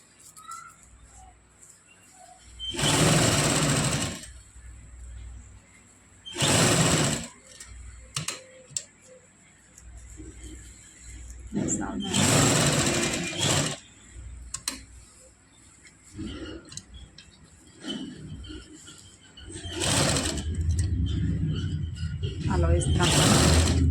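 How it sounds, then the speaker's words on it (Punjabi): A sewing machine stitches a loose basting seam along a shirt neckline in several short bursts of whirring, each a second or two long, separated by quieter stretches of handling noise. "ਇਸ ਤਰ੍ਹਾਂ ਨੂੰ ਆਪਾਂ ਕੱਚੀ ਸਲਾਈ ਲਗਾ ਲਾਂਗੇ"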